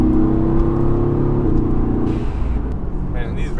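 A RENNtech-tuned Mercedes-AMG GT R on the move, its engine a steady low rumble and whir heard from inside the cabin, easing off partway through, with a voice talking over it.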